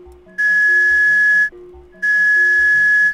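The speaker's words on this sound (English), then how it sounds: "It's a whistle of some kind." In the video game Jazzpunk, a shrill whistle sounds twice, each blast holding a steady pitch for about a second, over quiet plucky background music.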